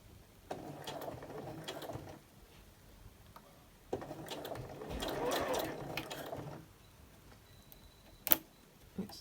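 A sewing machine stitches binding onto a cosmetic bag in two quick mechanical runs of rapid stitching, with a short pause between them and a sharp click after. A voice talks faintly underneath.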